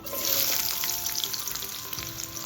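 Small shallots fry in hot oil with fennel, cinnamon and a bay leaf, producing a loud steady sizzle with bursts of crackling near the start.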